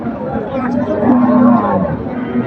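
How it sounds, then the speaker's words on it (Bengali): Cattle moo loudly at a busy livestock market, one long low call rising over a murmuring crowd and general bustle. "গরুটা অনেক সুন্দর সাইজের"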